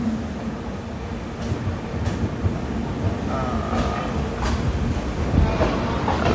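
A low, steady rumble of a train at Katihar Junction railway station in Bihar, India, with faint clanks and a brief squeal of metal over the background noise.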